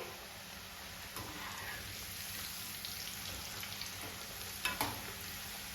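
French fries deep frying in hot oil, McDonald's style, producing a steady bubbling sizzle with a few sharper pops near the end, close and fairly quiet, with no voices.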